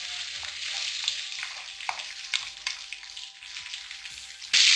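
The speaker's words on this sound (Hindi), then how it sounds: "और हमने इसे इतना फ्राई करना है जब तक ये लाइट गोल्डन कलर की ना हो जाए।" Sliced onions sizzle in hot spiced oil for chicken karahi, a steady close frying hiss with occasional stirring clicks and spatters, ending in a sudden louder burst of sizzling.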